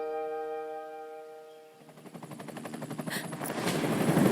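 Military-grade Shinra helicopters in the Final Fantasy VII Rebirth game approach overhead, a fading sustained tone giving way to rapid rotor chopping that grows steadily louder and closer.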